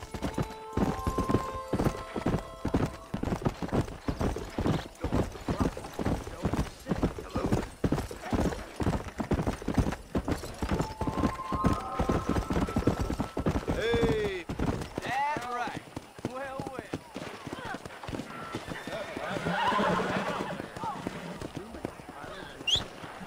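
Horse hooves clip-clop rapidly and steadily in the video game Red Dead Redemption, a galloping rhythm that slows and breaks up midway, with someone talking intermittently over the game sounds.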